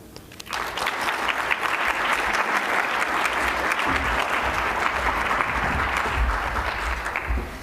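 Sustained applause from an audience at a community hunger banquet, steady and full for several seconds as a new executive director and CEO is welcomed to the stage.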